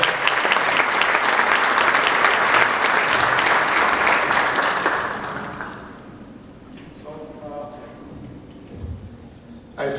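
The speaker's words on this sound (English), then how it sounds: "Please give a warm round of applause for our guests." Conference audience gives loud sustained applause for guests at an investment event, dense clapping that fades after about five seconds into quiet room noise with a voice speaking briefly.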